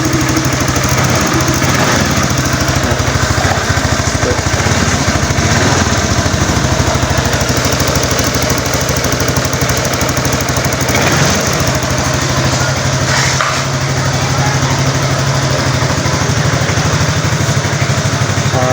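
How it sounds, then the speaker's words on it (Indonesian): A Suzuki Address scooter engine idles steadily for a long stretch, a loud, even buzzing rattle close by with no voices. "mesin sudah menyala"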